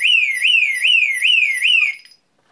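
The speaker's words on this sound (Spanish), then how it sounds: "Vemos que está sonando la sirena." A DSC security alarm siren wails loudly in quick repeating rising sweeps for about two seconds, then cuts off abruptly into silence as the system is disarmed.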